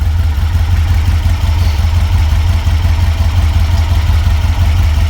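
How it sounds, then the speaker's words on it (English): A car engine with correct timing and no intake leaks idles steadily nearby, a low even rumble with a faint rhythmic chug throughout and no voices. "Idling nice."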